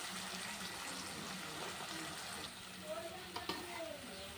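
A paste of mustard, green chili and cumin with turmeric and salt sautés in a pan for bhola fish curry, giving a faint, continuous sizzle with soft stirring scrapes and a brief voice near the end.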